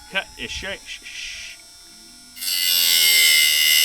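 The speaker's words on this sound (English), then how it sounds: "What it's doing is it's sharpening the front side of this tooth." A Wood-Mizer bandsaw blade sharpener grinding the front faces of sawmill blade teeth starts up after a brief pause following a few short voice-like sounds, then runs as a loud, steady, hissing grind.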